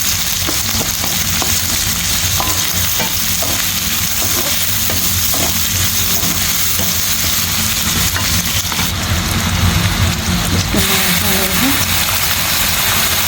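Onion and green chilies stir-fry in a pan for a Chinese-style cabbage and carrot dish, giving a loud, steady, close sizzle with scraping stirring throughout.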